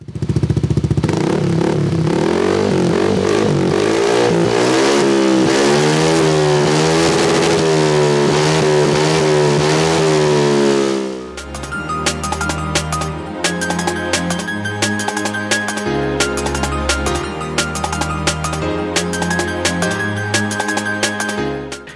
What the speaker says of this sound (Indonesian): Untuk sampel suaranya itu kurang lebih seperti ini ya, kalian bisa dengarkan langsung.